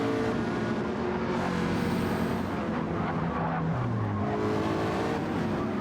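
Gr.3 race cars roar continuously in a video game race at Road Atlanta, a dense, loud engine drone with shifting pitch as several cars run close together in a pack.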